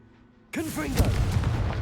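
A Confringo blasting spell from a Harry Potter video game goes off as one sudden loud burst, then a rumbling, crackling blast trails away, with a voice audible alongside.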